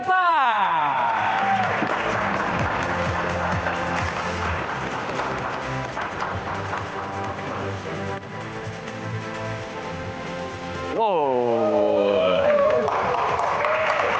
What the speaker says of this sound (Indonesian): Tepuk tangan untuk Queen kita pada malam hari ini, teman-teman